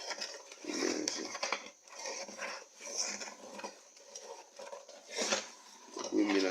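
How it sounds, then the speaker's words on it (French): Mixture being stirred in a container, giving scraping, clinking strokes against the sides in an uneven rhythm, fairly close and moderately loud. "Vous mélangez."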